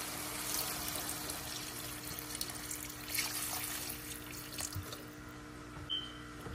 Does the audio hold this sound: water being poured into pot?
yes